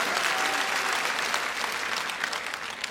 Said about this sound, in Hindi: एक बार जोरदार तालियां बजाकर अभय सिंह निर्जी को स्नेह दीजिएगा